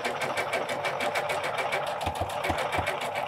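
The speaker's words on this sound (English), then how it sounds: "So we're going to stitch along here." A Janome sewing machine fitted with an edge guide foot stitches along a pleat, a fast even needle chatter close up, with a few heavier thumps toward the end.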